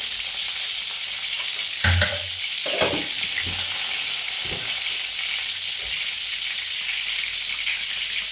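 Mustard seeds for a tempering crackle and sizzle in hot oil in a home kitchen, a steady frying hiss with a few louder pops and spatters near the start, close and without talk.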